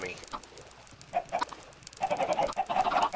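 Chickens cluck on a Minecraft chicken farm, several short bursts of clucking coming close together and growing busier toward the end, fairly close and moderately loud over a soft background.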